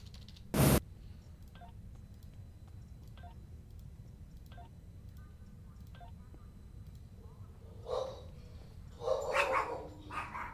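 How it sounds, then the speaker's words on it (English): Several dogs bark in a short, excited burst toward the end, fairly close. Faint repeated electronic tones run through the earlier part, and a brief loud blip sounds at the very start. "my dogs are yelling"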